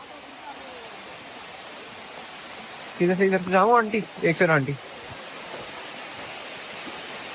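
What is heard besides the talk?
waterfall in Thailand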